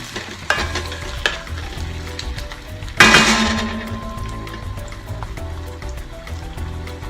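Onions sizzle loudly in a partly covered pan on a tawa-style setup, a constant crackling hiss broken by a few sharp clinks and a sudden louder surge of sizzle midway that slowly settles back down.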